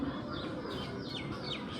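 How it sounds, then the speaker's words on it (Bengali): A common myna perched atop a dead areca palm gives thin, repeated chirping calls at a steady pace, heard from a distance over a soft outdoor background. "মাথায় বসে একটি ভাত শালিক চিকন সুরে অনবরত ডেকে যাচ্ছে।"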